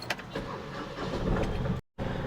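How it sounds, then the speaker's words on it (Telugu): A Mahindra Supro Excel's 900cc two-cylinder engine cranks and catches, then settles into a steady, rough idle at close range, with a brief dropout near the end. "సో ఇదైతే ఒకసారి స్టార్ట్ చేద్దామండి నైన్ హండ్రెడ్ సీసీ ఇంజిన్ అయితే వస్తుంది టూ సిలిండర్ ఇంజిన్ అనమాట"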